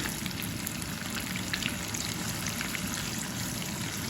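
Tomatoes sauté in a pan with a dense, even crackling sizzle that holds steady and close throughout.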